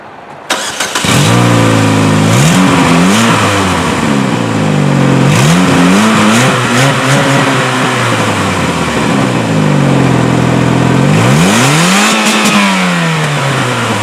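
A car engine at a local car meet revs hard several times toward redline, loud and close, the pitch climbing and falling in repeated sweeps with a final long rising rev near the end, no talking.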